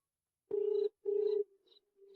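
A mobile phone rings with an incoming call: two loud, steady electronic tone bursts in quick succession, followed by fainter trailing beeps, in an otherwise quiet room.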